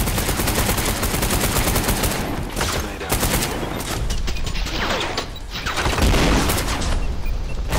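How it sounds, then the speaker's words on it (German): Rapid, dense gunfire and mechanical clatter fill a chaotic gunfight in the shooter game Trepang2, loud and sustained with brief lulls, no voice. "Oh, wie die Kugel an mir vorbeigezischt ist eben"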